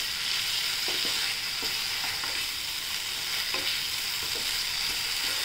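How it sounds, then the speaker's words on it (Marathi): Spinach with besan, onion and green chilli sautéed in hot oil for lasuni palak bhaji, a steady close sizzle with soft intermittent stirring scrapes, no voices. "तेलात परतून घेऊया।"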